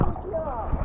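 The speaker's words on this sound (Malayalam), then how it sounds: "വള്ളം വരുന്നുണ്ട്. House boat," A houseboat passes on the water near a bathing spot, giving a steady low rumble and wash that fills the whole brief moment at moderate loudness, with faint voice-like tones mixed in.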